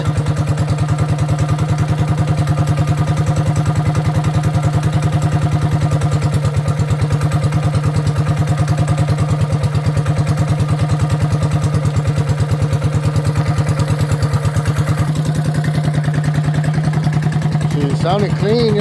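A Coleman B200rsv minibike engine fitted with 18 lb valve springs, idling close and loud with a steady, rapid putter that holds throughout, a voice briefly heard over it near the end.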